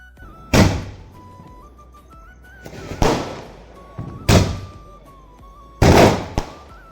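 A 30-shot sky shot Diwali firework bursts overhead, four sharp loud booms spaced a second or so apart, each with a crackling decay, over a faint steady background tone.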